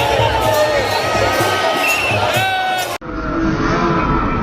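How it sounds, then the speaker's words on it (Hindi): A large crowd of devotees fills the street during the Nag Panchami procession in Ujjain, a dense, continuous roar of many voices with shouts and chanting, loud and unbroken, briefly cut mid-way. "मंगलवार को नाग पंचमी के चलते सवारी में श्रद्धालु की जबरदस्त भीड़ रही।"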